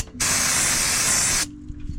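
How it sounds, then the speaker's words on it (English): A steady hiss of aerosol cleaner is sprayed onto an engine during an oil change. The single continuous burst lasts about a second and a quarter, then cuts off abruptly, leaving low workshop ambience. "Spray it a little off."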